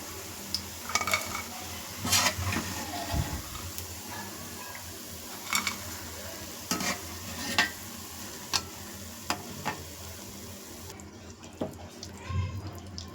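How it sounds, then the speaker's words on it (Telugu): Uggani bajji fritters frying in hot oil, a steady soft sizzle with scattered crackles and pops, plus occasional clinks of a utensil stirring in the pan. "మంచిగా ఇలా గోల్డెన్ కలర్ వచ్చేంత వరకు వేయించుకోవాలి"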